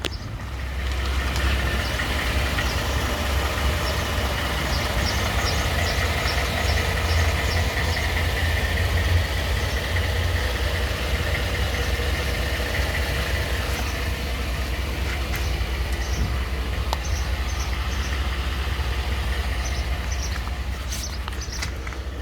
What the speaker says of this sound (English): I'll end it with the rev the engine up a little bit so you can hear it.